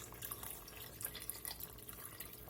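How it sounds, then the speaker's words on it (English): Broth pours into a pot of braised spicy mixed greens simmering with ham, a faint, steady liquid trickle with small drips over a soft background hiss. "I'm gonna add a little more broth in here, so it's going to simmer"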